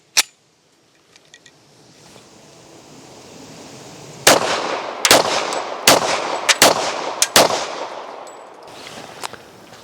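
A mil-spec 1911 pistol fires a five-shot string outdoors, five sharp, loud reports spaced a little under a second apart, each with a brief echoing tail, after a quiet lead-in and one earlier faint click.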